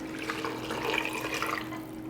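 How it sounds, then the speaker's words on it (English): Cold water pours steadily over meat in a pot for a Czech cream sauce, a continuous close splashing rush with a faint background hum. "the most important thing is to add a cold water"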